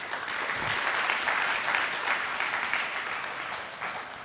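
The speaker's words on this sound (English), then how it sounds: "I would like everybody to extend a big clapping to Mahanadi Coalfields Limited." An audience at the inaugural session of an innovation carnival applauds a sponsoring coal company, producing steady, dense clapping from a large crowd that holds level for several seconds with no speech.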